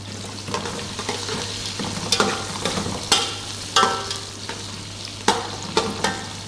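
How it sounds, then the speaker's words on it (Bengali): Onions and soybean chunks sizzle in a pan, with a spatula scraping and stirring in irregular strokes and sharp clacks against the pan over a constant low frying hiss. "ভালো করে নাড়তে হবে"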